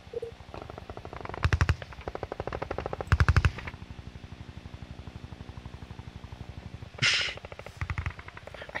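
Rapid bursts of gunfire from a gun in the VR game Hand Simulator, loud repeated volleys with short gaps between them, plus a few sharper louder shots standing out near the end, with no talk.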